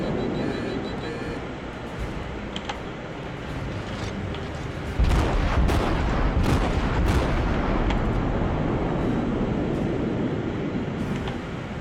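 Naval artillery fire in World of Warships, heavy booming salvos that roll in after a steady background rumble, several deep blasts clustered in the middle then fading into a continuous low roar.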